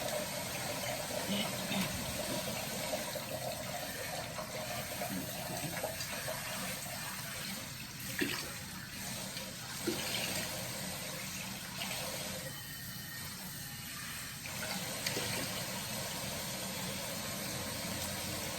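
A pot being washed in a kitchen sink under a steady stream of running tap water, with continuous splashing and scrubbing throughout and a few brief knocks of the pot against the basin.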